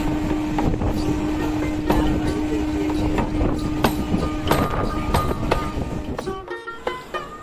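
A passenger train bound for Howrah rolls along with a steady rumbling roar, joined by periodic clicks and clacks from the rails, and a high tonal whine near the start.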